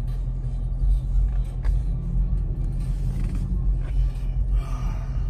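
Deep, steady exhaust rumble from a 2019 Dodge Charger Scat Pack, heard from inside the car as a loud low drone with slight swells while driving, no speech.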